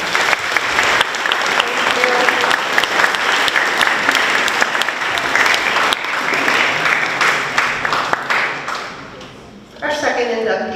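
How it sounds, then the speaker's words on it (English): Audience at a high school hall of fame induction ceremony gives a loud, sustained round of applause, dense clapping filling the room for several seconds before tapering off, with a voice briefly heard near the end. "Give James a big round of applause."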